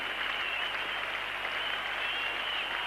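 A large cricket crowd at Lord's gives a standing ovation to Dennis Amiss during the 1975 World Cup match between India and England, sustained applause and clapping heard as a dense, even wash from a distance.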